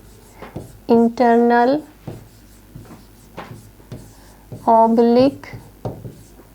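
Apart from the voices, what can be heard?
writing on a board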